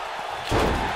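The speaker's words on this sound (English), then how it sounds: "Braun Strowman slams Roman Reigns down." A wrestling slam in the WWE 2K19 video game lands as a single heavy, booming thud halfway through, over steady crowd-like background noise.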